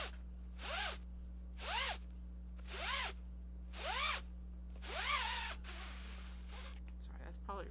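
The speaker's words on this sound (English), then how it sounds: "that's probably extremely loud on the zipper, or on the microphone" A zipper on a fabric bag is pulled open and shut five or six times in quick, evenly spaced rasping strokes, loud and close, over a steady low hum.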